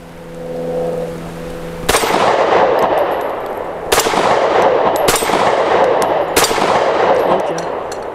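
A Smith & Wesson Equalizer pistol firing 124 grain rounds at a range, four loud sharp shots spaced about two seconds apart, each ringing out with a short echoing tail and no talking.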